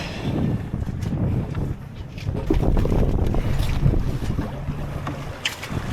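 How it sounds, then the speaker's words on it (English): A cheap small sailboat with its keel down and jib out moves under sail as gusty wind buffets the microphone, with water swishing against the hull, close and continuous, no talking. "We are sailing!"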